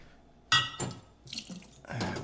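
Heated water hisses and gushes through the head of a home coffee machine in two bursts, the second longer, fairly close and loud with a brief pause between.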